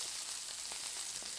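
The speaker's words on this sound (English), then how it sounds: "Now, the steak is cooking." A steak searing in a hot pan gives a steady, dense sizzle with a soft crackle. It holds at an even level for the whole stretch, with no voices.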